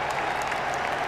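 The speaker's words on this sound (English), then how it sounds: "applauded by the losers" Crowd applause fills a football stadium as the FA Cup is presented to Manchester United after the 1996 final against Liverpool, a steady dense wash of clapping throughout.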